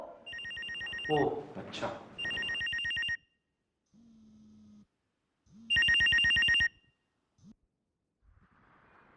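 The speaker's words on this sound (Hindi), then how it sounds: "ओहो, फोन उठाओ।" A telephone rings in repeated electronic bursts, loud and close, with pauses between rings while people speak briefly in between.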